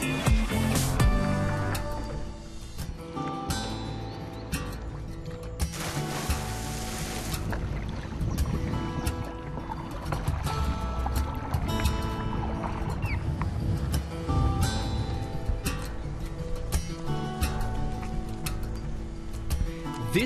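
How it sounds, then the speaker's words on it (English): A boat motors steadily across a lake, a continuous low rumble with occasional splashes and ticking knocks from the hull. "Here, Lukas gets to fulfill his dream of being a boat captain."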